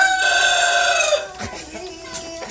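A rooster crows loudly up close in a chicken coop, a drawn-out call that fades, followed by softer clucking from hens.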